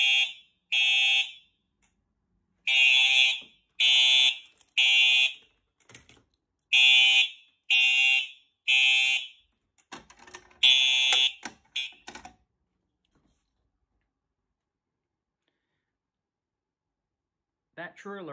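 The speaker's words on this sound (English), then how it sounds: "That Truealert is extremely loud." A Simplex TrueAlert fire alarm blares in loud, repeated pulsed bursts during a board system test, its tones cycling with brief gaps before cutting off into near silence, with faint clicks and a quiet voice near the end.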